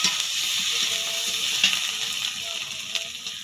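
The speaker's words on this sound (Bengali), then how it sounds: "হলুদ পেঁয়াজ দিয়ে আমি ভালো করে নাড়িয়ে নেব" Sliced onions with turmeric sizzle in hot oil in a pan and are stirred, a steady close hiss with faint intermittent scraping.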